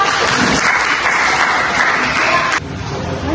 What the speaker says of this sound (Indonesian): Oke, tepuk tangan dulu untuk Nega.